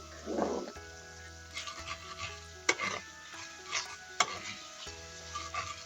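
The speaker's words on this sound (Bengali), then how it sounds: "সাথে হলুদের গুঁড়ো মরিচের গুঁড়ো দিয়ে এখন এই ঝোলটা আমি কষাবো" Pangas fish curry gravy with turmeric and chili powder sizzles softly in a pan while a spatula scrapes and taps in a few sharp, irregular strokes, fairly faint with a low steady hum beneath and no talking.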